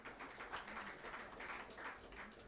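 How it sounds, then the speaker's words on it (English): Round of applause for the Honorable Minister at an event on northern Nigeria's malnutrition surge: a brief, fairly faint patter of clapping from a crowd, steady and diffuse throughout. "Please, another round of applause for the Honorable Minister."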